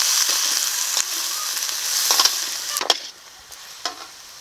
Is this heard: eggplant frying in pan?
yes